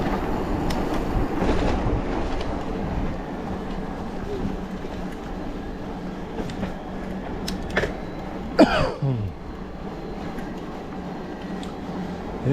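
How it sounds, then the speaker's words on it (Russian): An electric commuter train rumbles past close by on a route near Yalta, Crimea, with rolling wheel clatter, a sharp squeal or horn partway through, then fading rumble. "Электричка, электричка, электричка."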